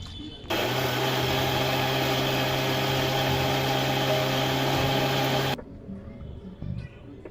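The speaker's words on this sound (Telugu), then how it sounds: "దీన్ని మనం మిక్సీ జార్ వేసుకొని మనం గ్రైండ్ చేసుకుందాం." A mixer grinder whirs steadily and loudly at full speed for about five seconds while grinding soaked rice for dosa batter, then cuts off, leaving quiet kitchen room sound.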